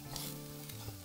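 Prawns sautéing in a pan with chili powder for a Kerala-style prawn fry, with a soft sizzle and gentle stirring scrapes, faint and brief, no talk.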